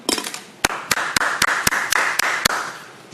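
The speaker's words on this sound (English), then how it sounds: "I would like to everybody give them a round of applause" Council meeting audience in Rye City applauding, a dense mid-range wash of clapping with a few sharp, louder claps standing out at a steady rhythm, lasting about three seconds without any talk.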